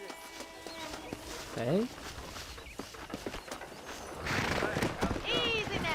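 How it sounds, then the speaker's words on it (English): Horses clip-clop and whinny in the Red Dead Redemption video game during a horse-wrangling scene, with hoofbeats and short neighs mixed with birdsong and game ambience, while a person speaks briefly. "Let's see if we can't wrangle some horses."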